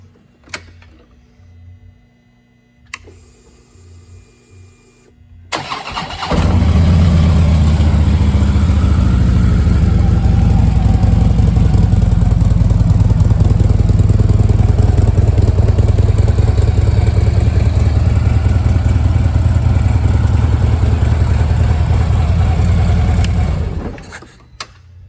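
A 2014 Harley-Davidson Electra Glide Ultra Limited touring motorcycle fires up after some faint clicks, then settles into a loud, steady, rumbling idle before cutting off near the end.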